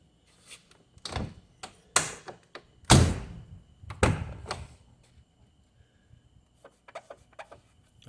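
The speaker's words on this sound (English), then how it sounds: "Now I'm going to close the door" A car door is closed several times, giving heavy thunks and latch clicks in an uneven series, the loudest in the middle, then lighter taps and clicks fading out, close by with no talking.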